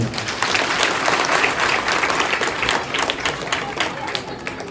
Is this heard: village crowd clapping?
yes